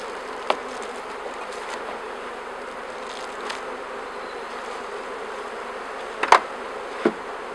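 Honeybees hum in a continuous, even drone from an open hive as candy feed is placed on top, with a few faint clicks and taps of handling close by.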